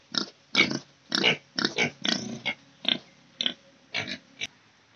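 Pigs at a village farm in Karbi Anglong grunt repeatedly, about a dozen short, close, fairly loud grunts in an irregular rhythm with brief pauses between them.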